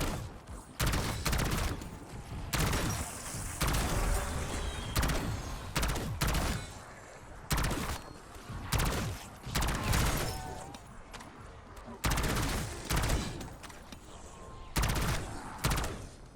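Weapons fire in short, rapid bursts in Call of Duty Black Ops 6 Zombies, loud close-up volleys separated by brief pauses, repeating steadily throughout.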